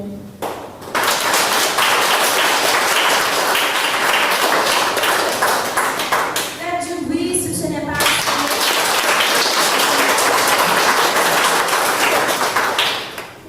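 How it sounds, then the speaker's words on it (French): An audience at a spiritual concert breaks into dense, sustained applause that starts abruptly and holds steady for over ten seconds. A brief voice rises midway through the clapping. "Applaudissons-les."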